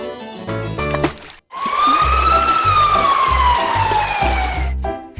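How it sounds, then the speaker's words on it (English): A fire truck siren wails in one long, slowly falling tone, loud and sustained for about three seconds, with a pulsing beat underneath and short musical notes at the start and end. "Fire truck."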